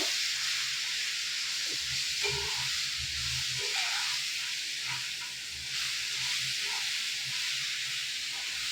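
Raw mango pieces being mixed into pulihora rice in a pan over a low flame, a steady sizzling hiss running throughout with soft scraping and stirring knocks underneath.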